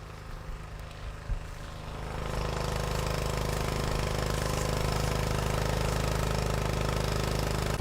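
A portable water pump engine, used during a wildfire near a lake, roars up loud and steady after a quieter start, a dense, continuous mechanical drone close by.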